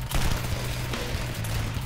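Video game gunfire rings out in a quick burst of several close, loud shots with a low, booming rumble beneath them, and no talk over it.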